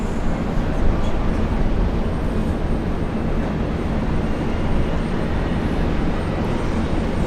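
An airplane departing Brisbane International Airport produces a broad, steady jet roar that holds loud and fairly close for the whole stretch, with no voices over it.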